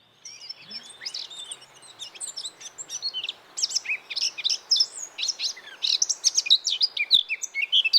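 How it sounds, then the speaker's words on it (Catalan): Eurasian blackcap song, a run of bright, quick warbling phrases with shifting pitch that gets louder and busier toward the end, close and clear with no voices. "El tallarol de casquet."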